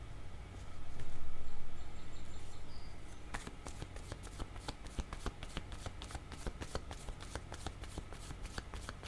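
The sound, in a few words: shuffling tarot cards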